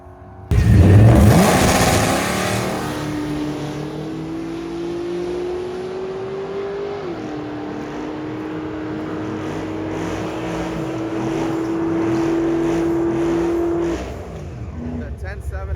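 A drag racing car makes a pass down the strip at a Sick Week 2023 drag-and-drive event: a loud launch, then a sustained engine howl climbing in pitch, shifting once midway and cutting off near the end, with a voice faintly underneath.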